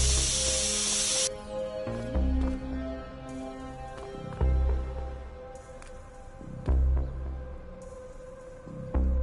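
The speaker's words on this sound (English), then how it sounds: "Spray can bandits in action." Spray can bursts in The Precinct police game: a long hiss at the start, then short repeated sprays over layered game music and heavy low thumps, close and loud.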